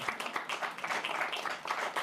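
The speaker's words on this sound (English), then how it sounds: "a round of applause to all of you that presented" Attendees at a Texas State Technical College Board of Regents meeting give a round of applause, a modest cluster of hand claps that rises and dips unevenly over a couple of seconds with no talk.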